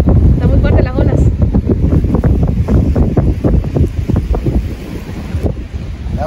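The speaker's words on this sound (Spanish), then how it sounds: "Está muy fuerte las olas." Strong ocean waves surging onto the shore at a fishing spot near Ensenada, Baja California, with heavy wind buffeting the microphone; a loud, continuous rumbling wash throughout.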